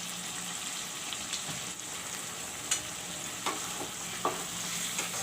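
Masala of garam masala paste, pepper, green chilies and turmeric powder frying in oil for a mutton curry, a steady close sizzle with a few sharp clicks of a spoon against the pan.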